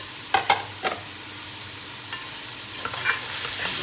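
Tomatoes dropped into onions frying in a karahi, a few sharp clattering knocks followed by a steady sizzle and soft stirring.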